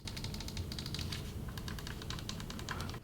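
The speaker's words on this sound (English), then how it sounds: "this will allow you to have clicky buttons like this" Clicky tactical face buttons on a PS5 controller pressed in quick succession, a dense run of sharp close-up clicks like typing on a keyboard.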